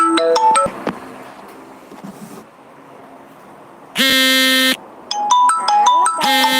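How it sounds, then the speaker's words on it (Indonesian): A mobile phone ringtone for an incoming call goes off at a roadside food stall, playing a loud, bright repeating melodic tone in short bursts that start, pause briefly and then resume over faint background chatter. "Nah, bapak telepon Kak."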